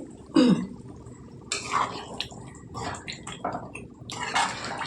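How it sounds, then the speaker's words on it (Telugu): Water from a large glass is poured into a pan of chicken curry, bursts of splashing and sloshing with a short loud pour near the start, followed by intermittent stirring clatter. "ఇప్పుడైతే మనం ఇందులోకి నీళ్ళు వేసుకుందాం."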